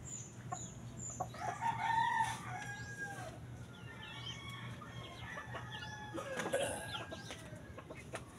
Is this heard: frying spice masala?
no